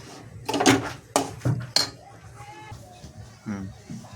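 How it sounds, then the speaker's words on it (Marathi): Spoon clinks against a pot or bowl while cardamom and nutmeg powder are stirred into a sesame ladoo mixture; a few sharp scraping taps cluster early, then softer scrapes follow, fairly close. "ही वेलची आणि जायफळ आहे हे टाकूया आणि थोडंसं त्याला हलवून घेऊया"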